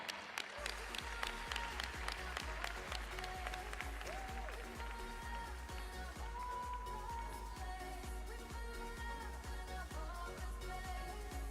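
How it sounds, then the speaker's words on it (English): An audience applauds a youth mental-health panel, steady dense clapping that holds at an even level for several seconds, with a few voices under it. "Give a round of applause."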